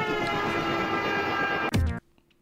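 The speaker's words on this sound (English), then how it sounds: "I thought that maybe the third time they wouldn't actually have a train come through." A cartoon train roars through in an animated comedy sketch, a steady loud rumble with a horn tone that ends in a short crash-like burst, then cuts to near silence.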